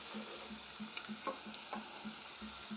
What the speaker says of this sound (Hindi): अभी हल्का सा सॉटी हो गया है